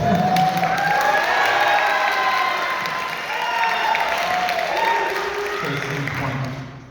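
Band students cheer and applaud at a school band banquet awards night, a loud burst of clapping with whoops and shouts that fades, then swells again before dying away.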